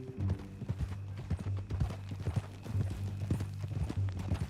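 Horse hooves clip-clop at a steady walking rhythm in Red Dead Redemption 2, close and fairly loud, with a low musical drone underneath and no talking.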